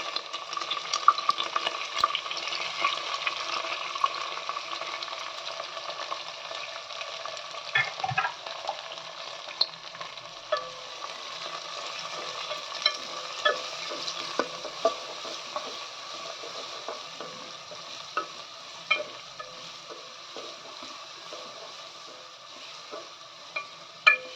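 Chana dal, curry leaves and green chilies fry in a pan with a steady close sizzle and crackle, broken by soft scraping stirs and small ticking pops throughout, no voices.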